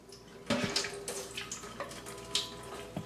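Water being emptied out of a countertop water filter housing into a sink, with splashing and dribbling bursts over a faint running-water background, quiet and close.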